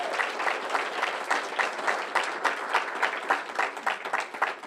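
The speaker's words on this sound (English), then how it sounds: "How about a big round of applause for Dr." An audience applauds Dr. Skinner at a university class session, a dense, steady round of clapping from a large crowd that carries on throughout without any talk.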